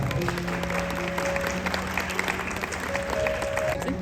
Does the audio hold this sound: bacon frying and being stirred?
no